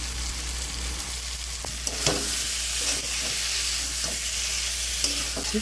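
Fried pointed gourd pieces tumble into a pan of potatoes already frying, with a steady close sizzle and a few scraping stirs of a spoon against the pan.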